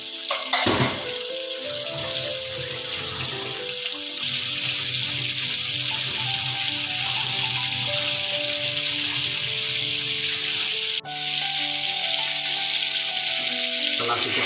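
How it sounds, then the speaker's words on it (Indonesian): Meat grills in a pan, giving a steady, close sizzle with a watery hiss that runs throughout, broken by a brief knock about two-thirds of the way in. "Kita panggang dagingnya di sini ya."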